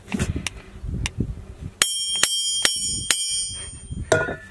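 Hammer strikes on an iron anvil, lifted out of the mercury it had been sitting in, ring out in bright, sustained metallic clangs, four evenly spaced hits following some duller knocking and handling noise.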